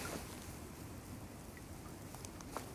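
Steady wind blowing by the water during float fishing for carp, a continuous broadband rush with faint gusting texture and a few small splashy ticks, no talk.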